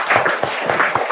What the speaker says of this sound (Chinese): 俾啲再大啲嘅声音嘅掌声好嘛